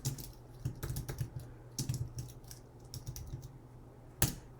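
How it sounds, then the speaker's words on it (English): Typing on a computer keyboard, with short bursts of quick, close key clicks separated by brief pauses, clear and fairly loud in a quiet room with no talking. "To type them in, you would just double click,"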